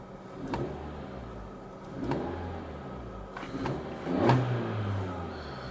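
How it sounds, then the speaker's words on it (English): A 2017 Honda Civic Sport Touring Hatchback engine revs at idle in three short, separate blips a couple of seconds apart, each rising and falling back, heard at moderate distance and fairly quiet. "So let's see how the Civic sounds."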